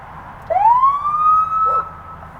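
A single police car siren wail rises sharply and holds a steady high tone for about a second before cutting off, loud and close.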